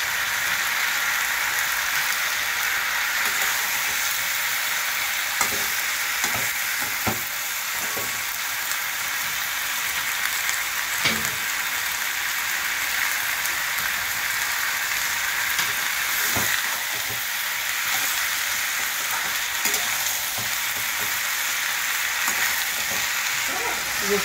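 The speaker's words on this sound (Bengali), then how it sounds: "এটাকে পাতা দিয়ে দেখুন টমেটোটা পুরো ভাজা ভাজা করলাম।" Tomato and leafy greens fry in a pan, a steady close sizzle with intermittent scraping taps as they are stirred, no one speaking.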